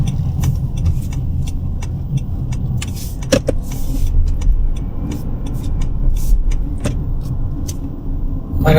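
Steady road traffic on a busy street heading toward Richmond near Vancouver, with cars continuously passing close by and engine and tire noise forming a constant loud wash, occasional sharper passes standing out; no one talks.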